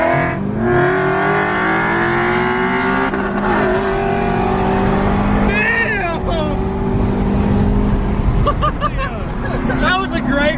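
Loud roaring engines of an E85-fueled 5.0 Mustang and a 2019 Camaro ZL1 racing on a highway, revving and rising in pitch through gear changes, with excited voices talking and cheering over the engine noise.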